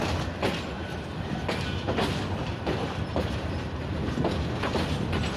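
A local train crosses tracks at Parbatipur railway junction, with steady loud rumbling and a repeating clickety-clack of wheels over the rail joints throughout.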